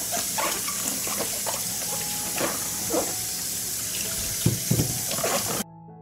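Fresh peppers rinsed under a running kitchen tap, water splashing steadily into a sink with irregular handling thumps, then the flow cuts off abruptly at the end.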